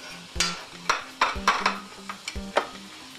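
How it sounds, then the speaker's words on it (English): Flour being stirred into a pot of pepper steak ingredients with soy sauce: a spoon scrapes and knocks against the pot in about seven distinct strokes, close and fairly loud, with no talk. "And first I add the flour and give it a little stir because you don't want it to get lumpy"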